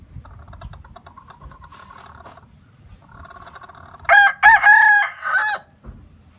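Backyard chickens clucking softly at first, then a rooster lets out a loud, close crow in several drawn-out bursts near the end.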